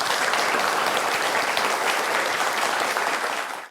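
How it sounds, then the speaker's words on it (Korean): Audience applause welcoming the author Han Kang to the stage, a dense, steady clapping from a large crowd that holds for several seconds and then quickly dies away. "큰 박수 부탁드립니다."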